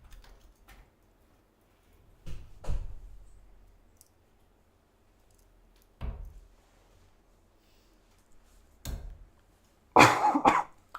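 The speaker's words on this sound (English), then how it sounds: "I've got my cough in there, if it deafened anybody." Several harsh coughs at a darts night, close and fairly loud, come in separate bursts spaced a few seconds apart, ending in a stronger double cough, with quiet clicks and room noise between them.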